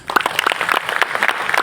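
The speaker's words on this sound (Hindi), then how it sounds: "एक बार आप अपने लिए ताली बजा लें।" An audience at a Buddhist gathering in New Delhi claps in a brief burst of applause, many quick overlapping claps filling the room with no voices over it.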